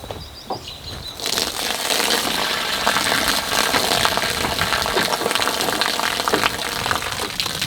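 Water draining from an off-grid solar shower, a steady rushing gush that starts abruptly after a quieter first second and continues loud and close, with some splashing and gurgling.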